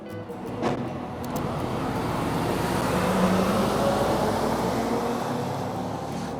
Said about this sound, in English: Wait for that car to move